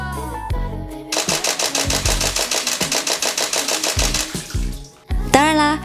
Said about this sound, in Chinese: 接下来打开相机高速连拍